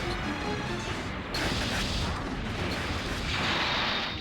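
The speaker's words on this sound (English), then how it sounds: "She's There she is. firing missiles out there." Missiles fire from a Zoid mech in the GameCube game Zoids: Battle Legends, a dense, continuous barrage of blasts and crashing impacts with louder bursts near 1.3 and 3.5 seconds, with no pauses between them.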